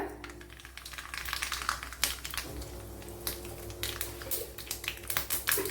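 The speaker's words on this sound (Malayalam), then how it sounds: "വൺ ടേബിൾ സ്പൂൺ വെളിച്ചെണ്ണ ഒഴിച്ചു കൊടുത്തിട്ടുണ്ട് അതിലേക്ക് കടുക് ഇട്ട് കൊടുക്കുക" Mustard seeds crackle and spit in a tablespoon of hot coconut oil, a Kerala-style tempering for cucumber pulissery, as a dense run of sharp popping ticks over a low, steady pan hiss, close and moderately loud.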